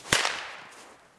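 A cherry bomb firecracker lit outdoors bursts with one sharp, loud bang, a quick second crack follows, and then the report fades into a short decaying tail.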